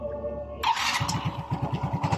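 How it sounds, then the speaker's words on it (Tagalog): Yamaha Mio i 125 scooter engine cranking and catching after a brief hum, then settling into a steady close idle with rhythmic low putters, no talk. "pandarin natin ulit na kanyang susi para marinig nyo na ang andar ng kanyang motor"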